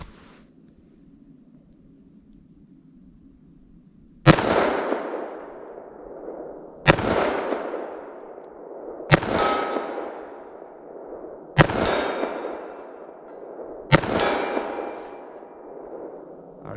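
Five loud gunshots from a short-barrel .357 Magnum and a .45 ACP handgun fired outdoors, spaced a few seconds apart after a quiet stretch. Each blast is sharp and close with a long ringing decay.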